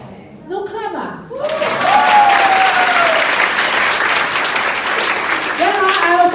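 Warm, sustained applause from an audience at a speaking event rises after a few spoken words and holds steady, many hands clapping together, with a voice talking again as it tapers.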